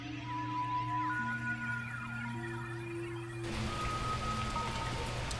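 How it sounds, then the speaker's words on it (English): Rain falling in the video game Signal Simulator, a steady soft patter over a sustained low electronic hum and drifting tones, continuous through the clip and getting denser and noisier partway through, with no voices. "Oh, good. It's raining again."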